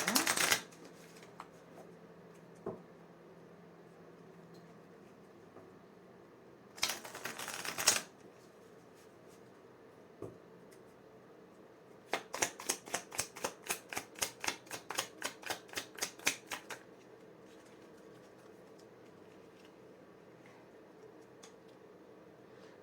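Tarot cards are shuffled close by in three bursts: a short riffle, a denser shuffle, then a long run of rapid, regular flicks.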